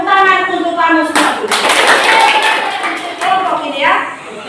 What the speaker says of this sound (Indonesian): tepuk tangan untuk kamu semua